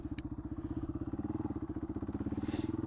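A Yamaha XT225 dual-sport motorcycle's single-cylinder engine thumps in a fast, even pulse while cruising at around 60 to 65, a close, steady putter with a brief click near the start.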